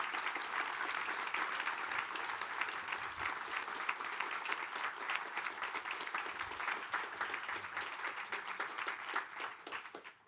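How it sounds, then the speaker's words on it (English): Dense audience applause at a volunteering partnerships forum, steady and fairly loud for the whole stretch before it thins out at the very end. "Can we have an applause for them?"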